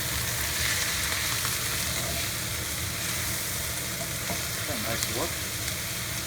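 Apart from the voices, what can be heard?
stirring tofu with garlic chili in a hot pan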